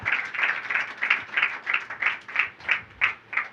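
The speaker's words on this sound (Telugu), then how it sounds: "మరొకసారి చప్పట్లు కొట్టాలి" A church congregation claps in a steady, evenly spaced rhythm, about ten firm collective claps that rise and fall in loudness, fairly close and with almost no talking over them.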